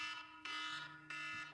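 An alarm effect plays on a fantasy football show, a harsh buzzing tone that pulses in three repeated bursts over about a second and a half, quiet overall with no talk.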